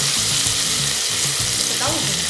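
Garlic sizzles steadily in a hot pan, a close, continuous crackling fry with faint stirring scrapes and no talking.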